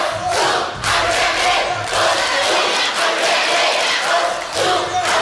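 Loud audience at a school quiz show: dense crowd noise of cheering and shouting that persists through the whole stretch with only brief dips.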